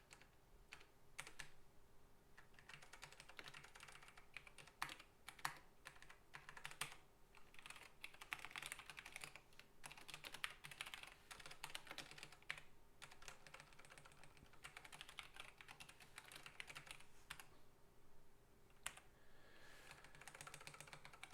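Computer keyboard typing during a programming session, with soft, fairly quiet keystrokes tapping in uneven runs and short pauses across the whole stretch, no speech.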